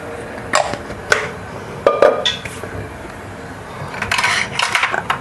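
Two large ladlefuls of oil go into a big wide pan for tempering, heard as several sharp metallic clinks and knocks of a ladle against the pan, close and fairly loud, with no speech.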